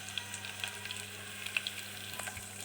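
Chicken hits garlic and ginger frying over a high flame, making a soft continuous sizzle with small crackling pops, faint and steady throughout.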